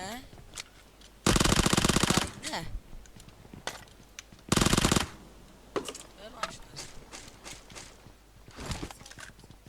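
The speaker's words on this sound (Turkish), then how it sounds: "Bak hala sıkıyorlar birbirine" Bursts of gunfire from the video game PUBG Mobile: two long, loud automatic volleys, with scattered single shots and clatter in between, as players talk over the action.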